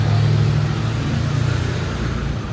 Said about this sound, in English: big truck, San Francisco.